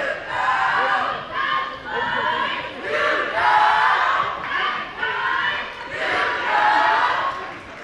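A packed crowd at a middle school JV basketball game, Wildwood Middle against South Middle, cheers and shouts in loud, continuous surging waves, with many voices chanting and yelling together.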